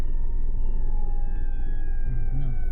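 A fire truck siren wails steadily nearby over traffic rumble, its tone holding long and slowly falling in pitch.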